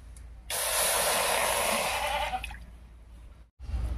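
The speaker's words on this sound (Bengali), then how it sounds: "এবারে কড়াইয়ের মধ্যে সামান্য একটু জল দেব।" Water hits a hot wok on a stove and erupts into a loud, sudden steady hiss that fades over about two seconds, then cuts off briefly before a low rumble returns.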